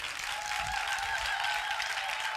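Steady, dense applause from a crowd, continuous throughout with no pauses, fairly distant and even in loudness.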